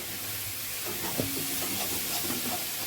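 Fenugreek leaves fry in a pan in a home kitchen, a soft steady sizzle and hiss close by, with faint clinks and tonal clatter partway through and no speech.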